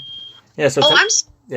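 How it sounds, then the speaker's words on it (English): A home smoke alarm gives a steady high beep, then cuts out as someone speaks over the room; the beep returns briefly at the end. "That's my fire alarm, isn't it?"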